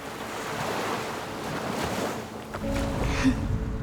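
Continuous roar of sea surf on a beach with wind rushing over the microphone, steady and loud, swelling slightly near the end.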